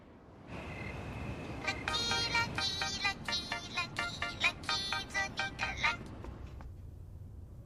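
A phone rings with a repeating electronic ringtone pattern of bright tonal bursts, fairly close and loud over a faint background hum, stopping after several seconds.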